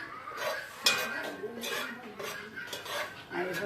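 Beiju dough being stirred in a hot pan in a rural kitchen: a spoon scrapes and clinks against the metal in irregular strokes, with one sharper knock, fairly quiet and close.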